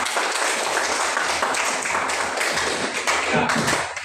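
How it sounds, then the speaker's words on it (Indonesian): Students in a classroom applaud a group's answer with dense, continuous clapping from many hands, loud and close, holding steady for the whole stretch before easing off at the end. "berikan aplaus"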